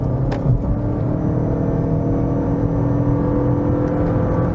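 A Toyota C-HR 2.0 hybrid accelerating to overtake, heard from inside as a steady, loud low engine drone and road rumble that holds evenly without pause.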